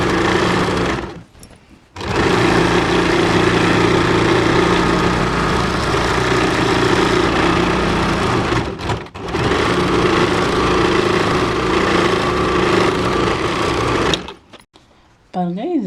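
A sewing machine runs in long steady bursts, hemming a new underskirt, with a close, buzzing motor hum broken by two short pauses.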